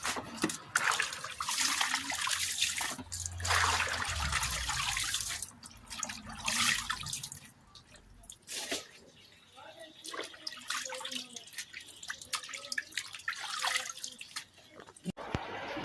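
Water runs and splashes as freshly picked peppers are washed for homemade pepper paste, a busy outdoor flow of gushing and dripping with brief pauses, and people talk over it now and then.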